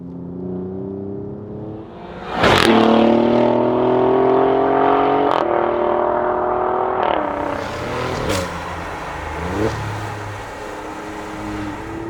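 Alfa Romeo Giulia Quadrifoglio with its 2.9-litre Ferrari-derived F154 V6, driven in dynamic mode: a loud, close engine revs hard with rising pitch sweeps and sharp gear changes, then eases off toward the end.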